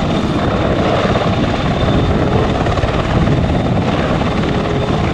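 A toy military helicopter's spinning rotor makes a loud, steady whirring drone that stays close and constant throughout, with no talking.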